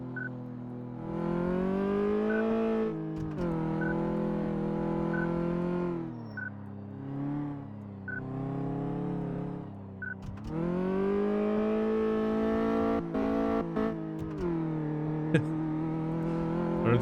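Simulated car engine from the Car Mechanic Simulator 2014 video game, driven through a slalom course, droning steadily with repeated rises and dips in revs as it weaves, loud and continuous throughout.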